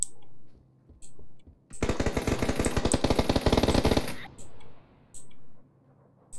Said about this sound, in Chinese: 你可以听到枪声了。